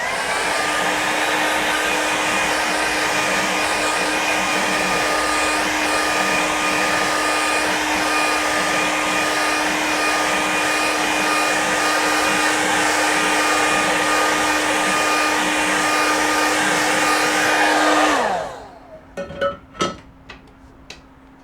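A hair dryer blows a loud, steady whine while drying watercolour paper on a board, running continuously before it winds down and stops, followed by a few light taps.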